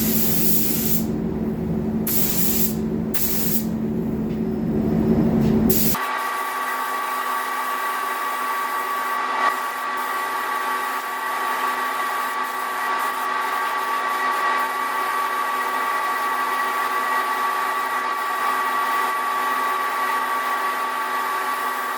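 A spray gun applies paint to the new bumper of a Mazda CX-5, a loud, close hiss for about six seconds that cuts off sharply, followed by a steady hum of background machinery, with no talk.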